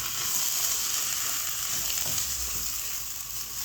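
Rice sizzles and fries with chopped onion in a hot pan for yellow koshari, a steady crackling hiss with faint stirring, close and continuous.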